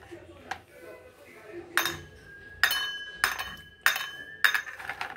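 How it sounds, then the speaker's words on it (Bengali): Clinking strikes of glass or metal as water bottles are filled at night at home, several separate bright knocks with a ringing tone, close and fairly loud over faint background. "আর রাতে এইভাবে আমি জলের বোতলগুলো ভরে রেখে দিই।"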